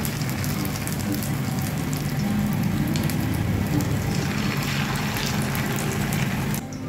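Egg chaat bora fritters frying in a shallow pan, a dense continuous sizzle and crackle like light rain, steady and close throughout, with no voices.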